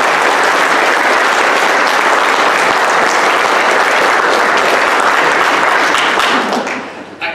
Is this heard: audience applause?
yes